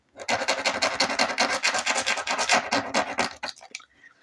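A gel pen scribbles on paper in quick, scratchy back-and-forth strokes at close range, a steady rubbing rhythm that slows and trails off near the end.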